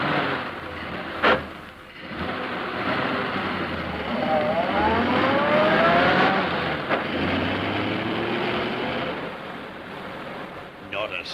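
A car engine in a 1952 radio drama revs up and pulls away, a loud accelerating drone with rising pitch sweeps that fades as the car gathers speed.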